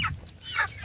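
Chickens squawk and cluck as they are lifted up at a picnic gathering, two short bursts of loud fowl calls with a quieter gap between them.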